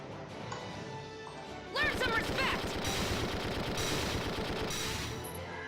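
Gunfire in the tactical video game Valkyria Chronicles II, a dense burst of rapid shots starting about two seconds in and continuing loudly to the end, with game sound underneath.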